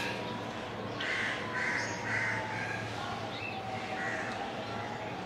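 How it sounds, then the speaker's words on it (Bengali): Crows caw repeatedly around a home balcony after a night of rain, fairly faint and somewhat distant over a steady background hum, with brief voices mixed in. "চারিদিকে এত পাখির আওয়াজ না,"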